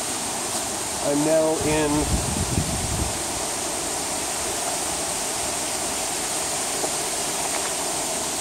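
Steady broadband rush of a river running right beside an abandoned Hamburg paper mill, heard from inside the building, a constant wash that stays even throughout while someone speaks briefly near the start.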